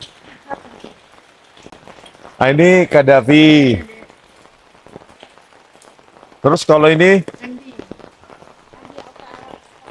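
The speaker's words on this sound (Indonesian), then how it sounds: "Hujan-hujan." Steady rain patters on surfaces outdoors at a cemetery, a continuous soft hiss running through the whole scene while someone speaks in two short bursts over it.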